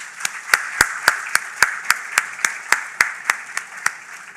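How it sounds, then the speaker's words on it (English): Rhythmic group clapping at an awards ceremony, a steady beat of about fifteen sharp, evenly spaced claps from an audience, close and moderately loud with no talking. "how do we applaud?"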